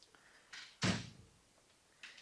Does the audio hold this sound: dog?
no